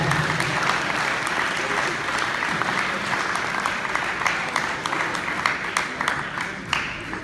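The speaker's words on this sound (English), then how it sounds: "Ladies and gentlemen, a big round of applause for Mr." Wedding guests applauding, a full room of steady clapping that thins slightly toward the end, with a few individual claps standing out near the close.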